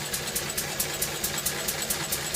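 A 1951 Lister D hopper-cooled stationary engine, 1.5 horsepower, idles slowly at about 500 rpm, giving a steady thumping beat with regular evenly spaced knocks, close and continuous.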